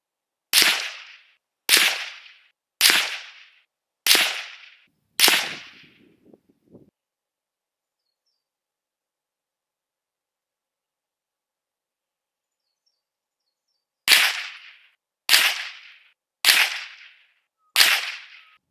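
Ruger American Compact rimfire rifle in .22 Magnum firing at a 100-yard range: five sharp, evenly spaced shots, a long quiet pause, then four more cracks in a similar steady rhythm, loud and close with no talking.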